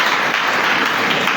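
A church congregation bursts into a short, dense wave of applause, loud and close, sustained steadily throughout with no pause.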